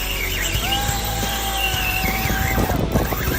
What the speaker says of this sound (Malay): Bunyi jeritan drag dia syahdu sungguh.